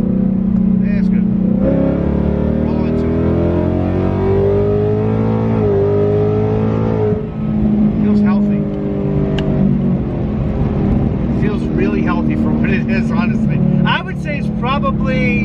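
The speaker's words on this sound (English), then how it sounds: "Let's get up high in the revs." A supercharged 2022 Mustang GT engine climbs steadily through high revs during a hard pull, a loud rising drone with a brief shift dip, under occasional talk inside the car.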